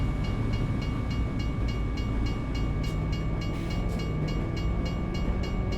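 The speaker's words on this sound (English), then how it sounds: "now we gotta wait for a train" In American Truck Simulator, a short train passes a crossing in a steady, loud rolling rumble. Rhythmic clickety-clack of wheels runs through it, with a faint tonal hum throughout.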